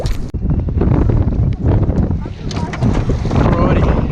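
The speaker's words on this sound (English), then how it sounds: "It's a bit windy out here." Strong wind buffets a boat on the Yarra River during a fishing trip, with heavy, gusty rumbling on the microphone, water noise and faint voices underneath.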